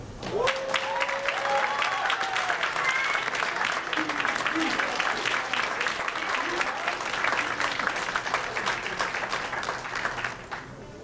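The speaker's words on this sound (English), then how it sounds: "Once again, please give a warm welcome, round of applause to Ronnie Russell Bay." An audience claps for student award recipient Ronnie Russell Bay at an African American education program event, a steady dense patter lasting throughout with a few vocal cheers mixed in.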